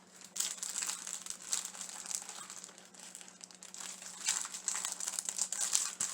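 Plastic packaging of alphabet stickers crinkles and rustles continuously up close as it is worked open, with bursts of crackling and no talking.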